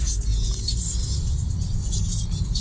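A Honda Civic pulls away from a green light, heard from inside as a steady, close low engine rumble with road noise that holds throughout, with no voices.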